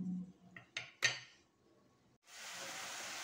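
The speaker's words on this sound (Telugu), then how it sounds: "వీటిని ఒకసారి మూత పెడదాం." A metal lid clinks onto a pan of carrot halwa, a few short sharp knocks close by, followed by quiet and then a steady soft hiss.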